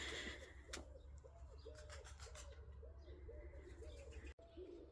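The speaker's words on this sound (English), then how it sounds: "You can hear the birds in the background" A pigeon coos repeatedly in a soft, rhythmic series in a garden in Freuchie, Fife, with a few brighter chirps from other birds early on, all faint against a low outdoor rumble.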